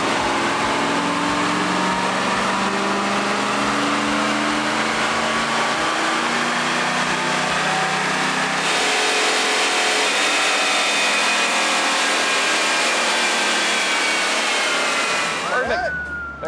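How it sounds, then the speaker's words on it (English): A Chevy 632 big block in an OBS Chevy truck with a six-speed roars steadily through a full chassis dyno pull, loud and sustained, with the pitch climbing before cutting off sharply at the end. "Chassis dyno pull."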